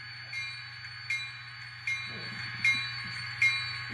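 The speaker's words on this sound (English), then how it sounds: "I'm going to put on the bell." A model locomotive's ESU LokSound decoder bell rings at a steady, even pace, each strike sharp and ringing out over a constant low idling hum.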